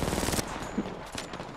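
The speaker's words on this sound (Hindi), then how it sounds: "गोलियां चलाते रहो भाई" Rapid automatic gunfire in a shooting video game, a tight burst of loud cracks followed by scattered sharper shots, close and punchy, with no talk during the firing.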